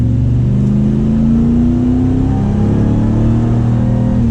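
A 2023 Dodge Ram TRX pickup's supercharged engine pulls under acceleration, a loud, steady, rising drone heard from inside the cab with no talking over it.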